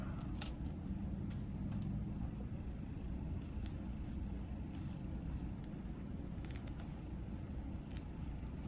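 Scissors trim paper in several short bursts of snipping over a low steady background hum, fairly faint, with the cuts grouped near the start, middle and end.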